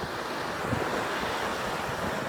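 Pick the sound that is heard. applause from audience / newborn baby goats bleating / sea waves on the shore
sea waves on the shore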